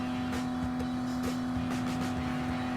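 Toyota GR Supra race car engine in Gran Turismo Sport, a steady, loud droning hum at constant pitch that holds through the whole stretch with no pauses.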